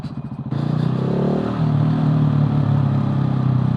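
A motorcycle engine revs in a built-up street, a dense, loud mid-range roar that climbs after a brief lower start and holds steady, close by throughout.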